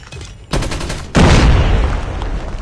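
Loud, dense bursts of video game gunfire, rapid and sustained like automatic weapon fire, starting softly then jumping louder and continuing without pause.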